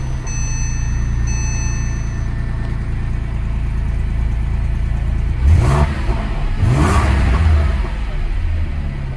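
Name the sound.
2007 Porsche 911 S engine starting and revving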